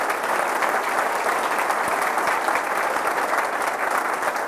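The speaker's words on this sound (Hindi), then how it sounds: "जोरदार तालियां लगाए" A congregation at a Friday church service claps loudly and continuously, a dense, even wash of applause from many hands throughout.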